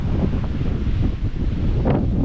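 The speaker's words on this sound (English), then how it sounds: "Quite windy today." Steady wind buffets the microphone on a walk around Wigton, a continuous low roar with gusty swells throughout and no other sounds standing out.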